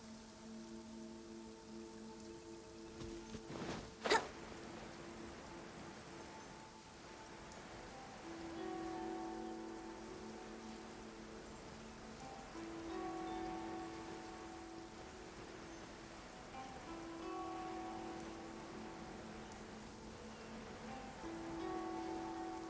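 Rain falls steadily in the Genshin Impact video game, soft continuous pattering under gentle tonal game music, with one sharp splash-like hit early on.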